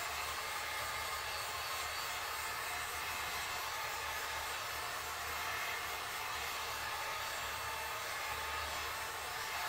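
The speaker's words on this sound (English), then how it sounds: "when you turn your heat gun on, blow it for..." Heat gun blowing a steady, loud stream of hot air away from a resin geode pour on a cradle board, a continuous hiss with no pauses, close and unbroken throughout.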